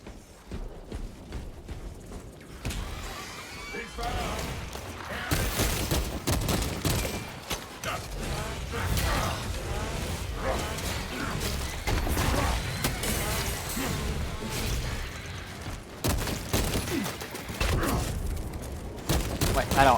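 A small cannon fires amid a chaotic battle in the video game Warhammer Space Marine 2, with repeated booms and bursts of gunfire throughout and a person talking over the din.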